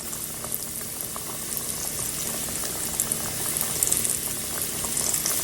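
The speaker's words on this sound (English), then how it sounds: "put our cabbage fries right into the oil" Cabbage fries frying in hot oil in a skillet, a steady close-up hiss with dense crackling pops throughout and no talking.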